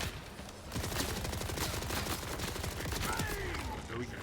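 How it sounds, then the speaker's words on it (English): A rocket barrage in the video game Borderlands 4 fires off in a dense rapid volley of blasts, a continuous rattling roar over several seconds with faint talk underneath. "There goes my rocket barrage."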